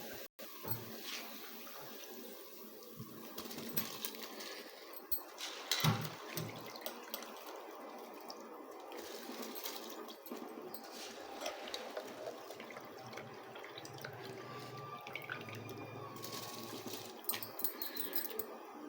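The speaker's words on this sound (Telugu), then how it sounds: "ఇప్పుడు మనం బియ్యం వేసుకోవాలండి." Rice poured into a pot of rapidly boiling water, giving a busy watery rush with a brief splash and scattered clinks near the middle, fairly faint and steady throughout with no talking.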